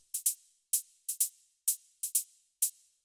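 A techno shaker sample plays alone as crisp, bright hissing hits in an uneven rhythm, some strikes single and some doubled, each with a quick attack and short decay.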